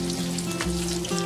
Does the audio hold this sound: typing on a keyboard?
no